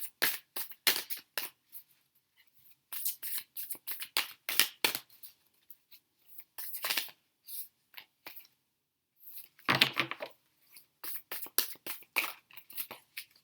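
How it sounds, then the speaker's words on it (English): Stiff new playing cards riffled and shuffled in repeated crisp bursts of clicking and flapping, close up, with brief pauses between rounds. "It's a new deck, so it's a little bit tough to shuffle right now."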